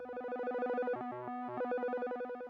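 Osmose synthesizer playing its Insert Coins lead patch with aftertouch: a steady bright harmonic tone that briefly shifts lower in pitch mid-phrase before returning, sounding alone and fairly quiet.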